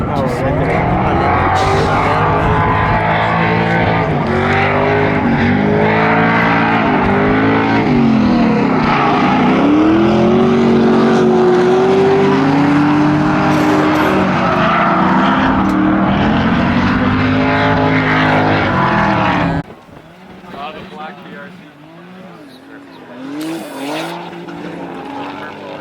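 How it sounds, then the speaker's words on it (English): A V8 drift car revs hard and loud at a Colorado drift event, its engine note rising and falling in long sustained pulls for about twenty seconds before cutting off, leaving quieter distant engine noise. "There's the V8 power right there."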